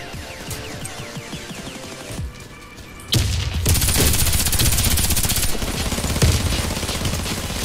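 Video game gunfire: scattered shots at first, then a loud sustained burst of rapid automatic fire that keeps going to the end.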